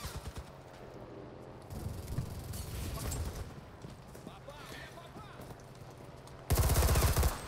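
Machine gun fire in the World War II shooter game Enlisted crackles at moderate distance, then a loud close burst erupts near the end, with someone talking over the action.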